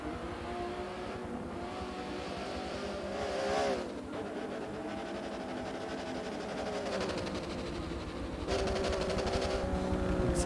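A damaged GT race car stuck in one gear on the Nürburgring GP circuit in a racing video game holds a droning, unchanging engine note, with brief surges and no gear shifts, faint and steady throughout.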